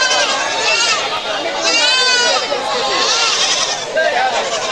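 Native goats at a village goat market bleat over and over, loud and close, several overlapping calls layered on dense crowd chatter.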